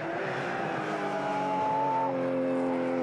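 A Porsche Carrera Cup S race car roars past at speed at Eastern Creek Raceway, its engine note rising then dropping in pitch as it goes by, loud and close.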